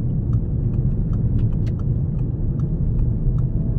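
Audi TT driving on a wet, greasy road, heard from inside as a steady, dense low rumble of engine and tyres with faint ticking above, no talk.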